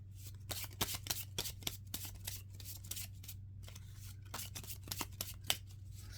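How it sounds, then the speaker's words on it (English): A 1937 deck of Zener ESP cards is shuffled, producing rapid, irregular riffling and snapping bursts over a steady low hum. The sound is close and fairly quiet, and no voices are heard. "So I got it nicely shuffled."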